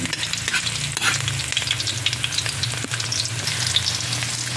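Ginger hits hot oil in a frying pan with a loud, continuous sizzle and crackle, close up, with no voices.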